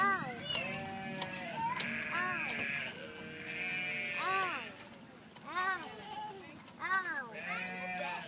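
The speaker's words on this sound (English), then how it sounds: "You calling to all those goats and sheep?" Sheep and goats on a farm bleat repeatedly in overlapping, wavering calls, some near and some further off, with a steady outdoor background.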